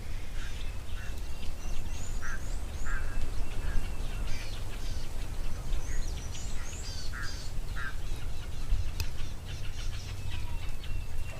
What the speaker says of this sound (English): Can hear an Egyptian goose and then also a go-away bird now.